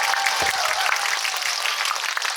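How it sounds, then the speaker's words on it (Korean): An audience at a special guest-visit screening claps for the director, a steady wash of applause that holds evenly throughout with no talking over it. "우리 세영 감독님께도 박수 한번 보내주시면 감사하겠습니다"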